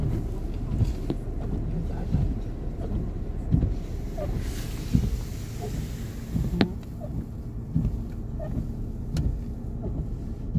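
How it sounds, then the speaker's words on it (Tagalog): Strong wind buffets and rumbles against the microphone in a steady low roar, with gusty thumps and faint background noise throughout. "Lakas ng hangin guys."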